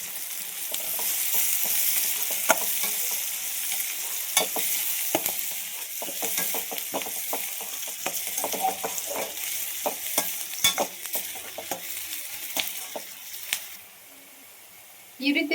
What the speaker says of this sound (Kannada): ಈ ಥರ ಫ್ರೈ ಆದಮೇಲೆ ಜಜ್ಜಿರೋ ಬೆಳ್ಳುಳ್ಳಿನ ಹಾಕೋತಾ ಇದ್ದೀನಿ. ಇದನ್ನು ಕೂಡ ಚೆನ್ನಾಗಿ ಫ್ರೈ ಮಾಡ್ಕೊಳ್ಳಿ.